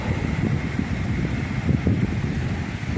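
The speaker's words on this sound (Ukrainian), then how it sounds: "вітер з моря, ух, сильний вітер" Strong wind blowing in from the sea roars steadily against the microphone, a dense low rumble with gusts swelling and easing throughout, no voices.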